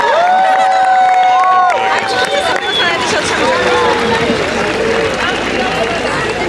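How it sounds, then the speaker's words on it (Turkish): Graduation ceremony audience at Istanbul Technical University cheering and clapping, a loud dense crowd roar with a voice over a PA speaking on top. "Alkışlar sizler için"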